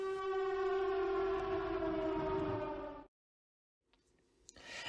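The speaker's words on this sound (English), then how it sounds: "And all the while, we hear the sirens going off in the background." A civil defense siren wails steadily at a base in a film scene, loud and sustained for about three seconds, then cuts to near silence before faint rustling and a few soft knocks return.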